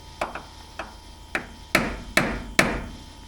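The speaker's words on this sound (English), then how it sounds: "Now I'll get my very gentle hammer and give it a tap." Six light hammer taps on a part of a 1979 Porsche 924, sharp isolated knocks spaced about half a second apart, close and clear, the later ones a little firmer.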